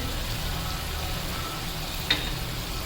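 Chicken karahi fries in a pan with freshly added green chillies and crushed coriander, a steady broadband sizzle running close and unbroken throughout, with one brief clink near the end.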